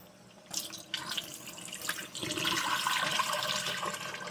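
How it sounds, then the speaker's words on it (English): Soaked red beans are rinsed by hand under a running faucet, a close, loud rush of water that starts after a brief pause and swells into a steady splashing stream with a few clatters. "All right, so we're gonna rinse our beans off."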